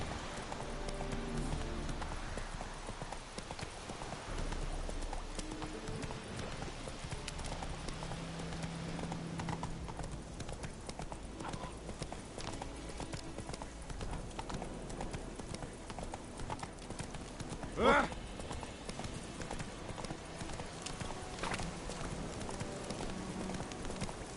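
The steady clip-clop of Roach, the horse in The Witcher, trots on without a break at a moderate distance, soft and even, with a short sharp sound partway through.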